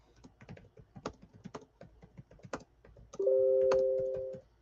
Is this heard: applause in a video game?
no